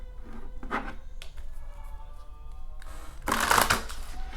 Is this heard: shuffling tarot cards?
yes